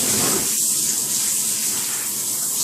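Lukewarm water runs steadily from a bath tap while a dog is rinsed in the tub, a continuous close hiss and splash with no talking.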